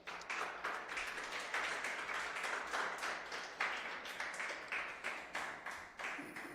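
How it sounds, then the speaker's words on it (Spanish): A church congregation gives a round of applause, a faint, distant patter of many hands clapping with a loose rhythmic pulse that continues evenly throughout. "Den un aplauso al Señor."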